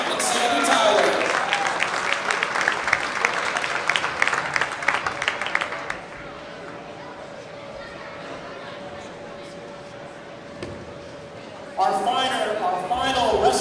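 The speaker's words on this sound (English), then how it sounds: "Let's please give a round of applause for Cooper Jones, Mike, and Sandy Tyler." Applause from a crowd at a high school wrestling event fills the first seconds with dense clapping, fades into murmuring room noise with a faint steady tone, then another burst of clapping returns near the end.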